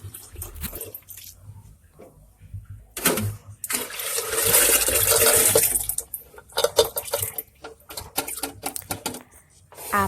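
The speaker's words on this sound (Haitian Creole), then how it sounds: "Là, on va le vider dans le blender." A corn mixture for akasan is poured into a blender, producing a rushing, splashing pour in the middle, surrounded by scattered knocks, clatter and drips.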